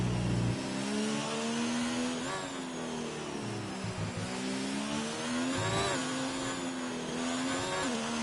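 A Formula 1 car engine screaming around a lap in a PS4 F1 game at the French GP, high-pitched revs climbing and dropping through gear changes, steady and loud with no voices.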